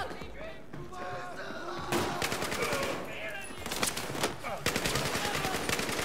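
Light machine gun fire in Battlefield 4, bursts of rapid automatic shots crackling loudly after a quieter opening, joined by other battlefield gunfire and mixed with voices.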